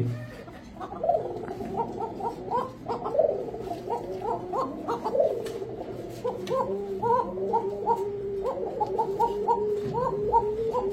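Pakistani teddy, gorra, chila, kaldom and laldom pigeons coo, overlapping in soft repeated throaty calls at close range against a low background murmur.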